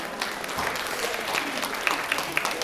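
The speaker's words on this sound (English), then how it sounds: "You should give yourselves a round of applause" Choir singers applauding themselves at a fall choral concert, a soft, steady patter of group clapping with a few sharper individual claps standing out, heard at a moderate distance with faint voices underneath.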